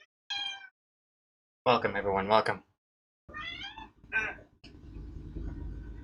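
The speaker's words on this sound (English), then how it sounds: "That's my cat." Cat meowing in short bursts between stretches of a person talking, the meows close and fairly loud, some drawn out and wavering.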